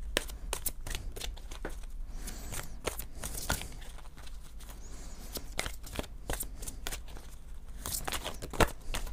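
Oracle cards are shuffled, drawn and laid down on a table. There are dense, close-up riffling and slapping card noises with irregular sharp snaps and flicks throughout.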